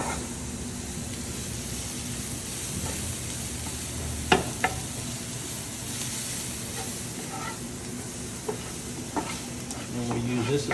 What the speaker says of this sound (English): We just want to saute these till we kind of tenderize them and toast all those herbs,